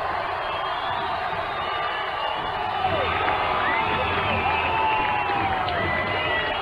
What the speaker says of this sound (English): Crowd on its feet, roaring.